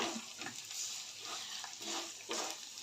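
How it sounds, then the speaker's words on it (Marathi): Sesame seeds roasting in a dry pan for garlic chutney, a soft, steady sizzle and rustle with occasional stirring scrapes, faint and close, no talk. "त्यानंतर तिळ घालते अर्धी वाटी तिळ घेतलेलं आहे ते घालते"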